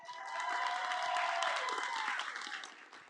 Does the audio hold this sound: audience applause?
yes